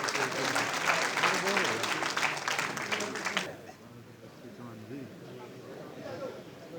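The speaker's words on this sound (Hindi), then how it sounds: "जोरदार तालियों से।" Loud applause from a political event audience in Haryana greets Chief Minister Manohar Lal, dense clapping filling the first three and a half seconds before dropping away to a murmur of crowd and voices.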